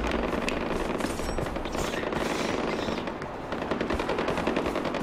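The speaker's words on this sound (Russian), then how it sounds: "Опять какая-то стрельба у них тут ведется. У них тут что, постоянная стрельба? Ого, пулемет" Sustained machine gun fire in the first-person shooter Far Cry 4, a dense, loud stream of rapid bursts lasting throughout with no pauses, heavy and close.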